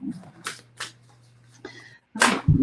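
Tarot cards shuffled by hand in a few quick riffling bursts, close and fairly clear, with a steady low hum beneath and brief talk between the bursts.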